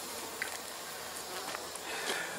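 Honey bees buzz steadily at an open Langstroth beehive, a dense continuous hum from many bees close by with occasional louder individual passes, no speech.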